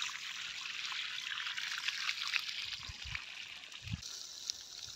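Water leaking from a burst pipe in a vegetable garden makes a steady, hissing trickle, with a few soft low thumps and gurgles toward the end.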